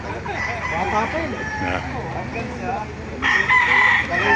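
A rooster crows loudly near the end while hens cluck and chatter throughout at a market in Baliuag, Philippines, with faint voices in the background.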